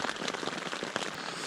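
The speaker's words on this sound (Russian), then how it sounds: "Дождь только усилился," Heavy rain falls on a bicycle-touring campsite in the Altai, a dense, steady patter with crackling drops, close and unbroken, with no voices.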